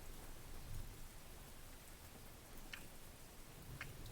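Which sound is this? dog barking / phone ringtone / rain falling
rain falling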